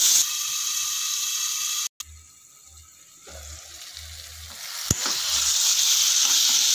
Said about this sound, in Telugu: టమాటా సాఫ్ట్ అయ్యేంత వరకు బాగా వేగిస్తామండి